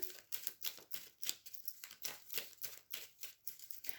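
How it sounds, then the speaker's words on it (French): Tarot cards being covered on a table make a quick, irregular run of soft papery slaps and rustles, close and quiet, with no talking. "Je vais recouvrir les lames."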